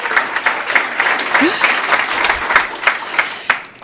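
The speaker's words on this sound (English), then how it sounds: "Give her a hand of applause." Applause from the audience at a school district board of trustees meeting, a steady wash of clapping with sharper individual claps standing out throughout.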